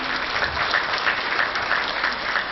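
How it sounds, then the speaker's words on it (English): An audience at an international industry conference applauds with steady, sustained clapping that fills the room, heard on its own without speech. "Can we have a huge round of applause for him?"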